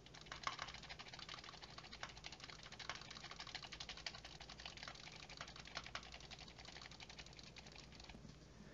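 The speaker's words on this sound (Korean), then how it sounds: "그러면 마우스와 키보드를 눌러보도록 하겠습니다." Rapid, continuous clicking of keyboard keys and mouse buttons, light and close, recorded through a Turtle Beach Stealth 600 Gen 2 headset mic, with a steady background hiss and no talking.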